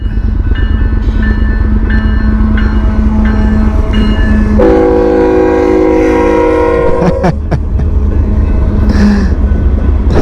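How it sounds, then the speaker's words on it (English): A long train rumbles past at a road crossing, loud and steady. A sustained multi-tone horn blares for several seconds partway through, over constant heavy rail noise, with no voices. "Now we have to wait for this long train."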